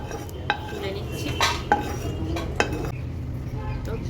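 Metal utensils clink and scrape against a pan as fried lentil dumplings are lifted out, a few sharp clatters standing out over a low background of frying oil.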